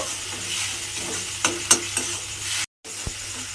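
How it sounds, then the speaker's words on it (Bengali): Pointed gourd seed paste sizzles in hot oil, with a few sharp clicks from a stirring utensil over a steady frying hiss. A short silent gap comes before the sizzle resumes, and no voices are heard. "পটলের দানার যে পেস্টটা বানিয়ে রেখেছিলাম সেটা কিন্তু প্রথমে একটু তেলের মধ্যে দিয়ে নাড়াচাড়া করে ভেজে নেব"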